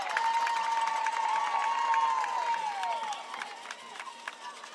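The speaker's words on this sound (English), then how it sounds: "Forney crowd on their feet." High school softball crowd at a Forney Jackrabbits versus Huntsville Lady Hornets game, fans on their feet cheering and shouting in a steady, sustained roar with whistles and voices rising through it.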